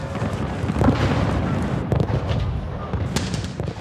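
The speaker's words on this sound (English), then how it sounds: "The first artillery is fired at 6 a.m." Artillery fire in a documentary reenactment of the Battle of Smolensk during Napoleon's invasion of Russia, with distant booms and crackling blasts over a dense rumbling battle background.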